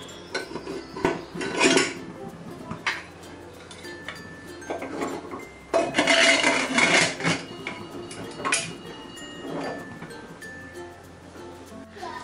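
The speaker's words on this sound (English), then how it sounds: "I'm going to put this inside the cooker now" Metal pan set down onto a stand inside a pressure cooker for baking eggless ladi pav, giving several loud clanks and scrapes of metal on metal, with quieter rattling between.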